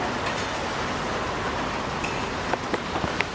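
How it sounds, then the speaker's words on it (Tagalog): Heavy rain with big drops falling during a motorcycle ride along a highway: a dense, steady hiss that fills the whole stretch, with a few sharper drop taps near the end. "Lalaki ng patak ng ulan."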